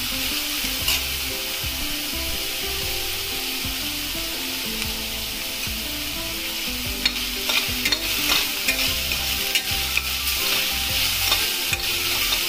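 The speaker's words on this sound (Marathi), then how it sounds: "आपण भाजीला जसं भाजतो तसं नाही भाजायचा कांदा" Onion frying in a pan for Maharashtrian masale bhat, with continuous sizzling and frequent scraping stirs of a spoon throughout, steady and close.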